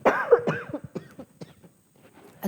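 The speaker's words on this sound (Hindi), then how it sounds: "खांसी हो गई है आज थोड़ी सी" A woman coughs several times in quick succession, close and fairly loud, followed by a few softer throat sounds and a final short cough, with no talking.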